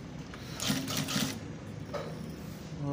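A tailor's sewing machine runs steadily, stitching fabric in a fast, even mechanical clatter with slight bursts in speed, close up and alone.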